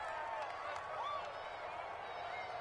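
Steady stadium crowd noise with scattered clapping and cheering fills a football video game broadcast, a continuous, fairly even wash of sound with no clear breaks.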